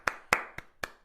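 Four sharp hand claps, fairly close and evenly spaced, with a slightly longer gap before the third, with no voices.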